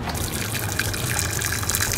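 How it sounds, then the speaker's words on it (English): Hot water pouring into a pot while making instant noodle soup with shrimp and baby clams at home, a steady close gush and splash lasting the whole moment. "Hot water."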